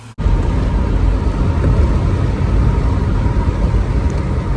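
A Holden VY Calais drift car with a freshly swapped L67 engine runs steadily, a loud, close, rough rumble that holds without pause after a brief moment of quiet.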